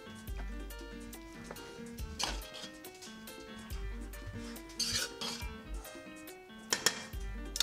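A spoon scrapes and stirs rice in a pot on the stove while preparing a vegan Spanish Thanksgiving dish, with soft clinks and rasping strokes over steady background music.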